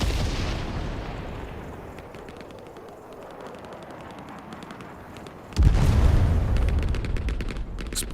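Hell Let Loose Vietnam: distant gunfire crackles over a fading rumble, then a sudden heavy tank explosion booms nearby behind a wall and rolls on, with scattered shots continuing afterward.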